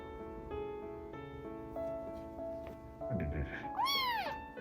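A young kitten gives a single rising high-pitched meow near the end, close and clear, after several seconds of quiet household background with faint tonal noise and a soft rustle.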